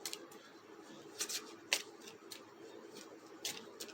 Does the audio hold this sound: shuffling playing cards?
yes